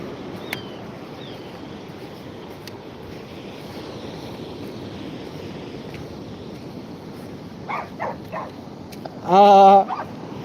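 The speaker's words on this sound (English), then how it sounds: "Somebody's playing with a dog down there." A dog at Withernsea Beach gives a single short, loud bark burst near the end, carried over a steady wash of surf and wind.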